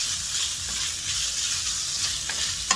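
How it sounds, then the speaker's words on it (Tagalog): Meat stir-fry sizzles loudly and steadily in a hot pan while it is stirred, a constant bright crackling hiss with occasional scrapes and one sharp clink at the end. "Stir lang yung stir-fry."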